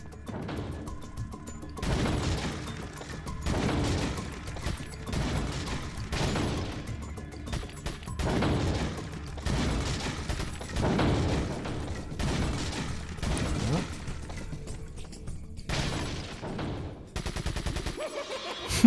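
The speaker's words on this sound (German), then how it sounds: "Dann knallen wir doch mal ein paar Pappkameraden ab." Rapid bursts of gunfire at cardboard targets on a shooting range in the video game Resident Evil 4 repeat in clusters across the whole stretch, crisp and close, with mechanical clacks between volleys and no talking.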